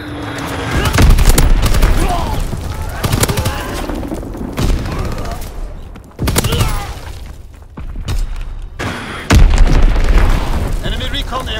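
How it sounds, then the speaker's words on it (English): Enemy bomb explosions from Call of Duty WWII roll out in several loud, booming bursts spread across the scene, mixed with gunfire and voices talking throughout. "Enemy bomb incoming"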